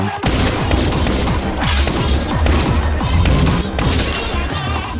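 Rapid, repeated pistol gunshots in a dense, loud volley, with booming impacts layered throughout.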